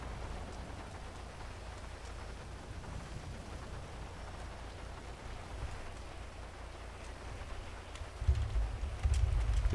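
Steady rain falling in the GTA roleplay video game FiveRP, a constant soft hiss throughout with a low rumble swelling near the end, no voices.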